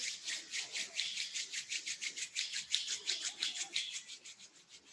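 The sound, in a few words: rubbing palms together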